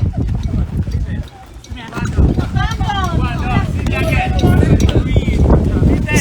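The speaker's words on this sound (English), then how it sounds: "So it's very windy here today." Strong wind buffets the microphone with a steady low roar at a cricket test match in Portmore while voices talk over it.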